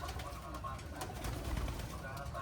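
Pigeons cooing at a box perch, soft low coos set back from a steady outdoor background.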